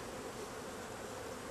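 Honey bees buzz steadily in an opened hive after the lid is lifted and smoke is applied, a dense, continuous close hum with no talking.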